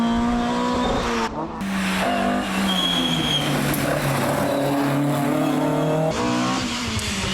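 A Ford Escort twin cam rally car races along a historic rally stage, its engine roaring loud and steady with rising and falling revs, a short dip between gear changes.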